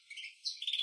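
A newly hatched, hand-reared grey swallow chick gives a few faint, thin high chirps in quick succession, close and otherwise quiet.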